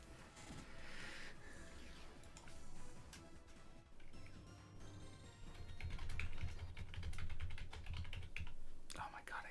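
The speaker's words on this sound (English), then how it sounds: "I don't know why he's hitting keyboard commands." Rapid typing on a computer keyboard, dense close clicking and key taps throughout, with a faint voice and low background hum in the second half.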